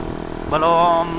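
An old Yamaha MX 200cc motorcycle engine running at speed, a loud steady buzzing drone that briefly rises in pitch and holds before settling back.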